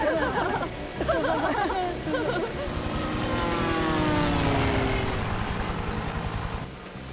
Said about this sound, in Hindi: हम हेलीकॉप्टर में हैं।